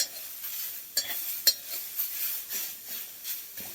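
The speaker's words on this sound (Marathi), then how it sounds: "बीट भाजत असताना एकसारखं हलवत राहायचं आहे असं कढईमध्ये" Beetroot roasting in a kadhai for beetroot barfi is stirred steadily, with soft sizzling broken by repeated scraping strokes of a spatula against the pan, close and fairly quiet.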